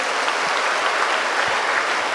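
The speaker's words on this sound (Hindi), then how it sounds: "ताली बजाए" An audience claps during a church testimony, a dense burst of many hands applauding together, loud and steady throughout with no voices standing out.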